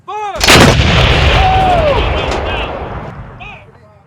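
An M777 155mm howitzer fires a single shot, a sudden close blast that rolls into a long, loud reverberating boom fading over several seconds, with faint voices before and after.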